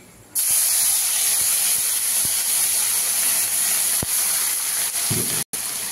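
Grated onion dropped into hot oil already seasoned with bay leaf and crushed garam masala, giving a loud, steady broadband sizzle that starts abruptly and holds for several seconds with a few small pops.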